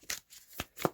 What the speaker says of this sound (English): give that a quick shuffle there.